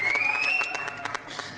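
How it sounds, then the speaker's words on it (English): Clapping hands from a virtual-world audience, a series of scattered claps over steady crowd noise and a faint tonal whistle, fairly quiet and thinning out toward the end. "there's lots of hands clapping"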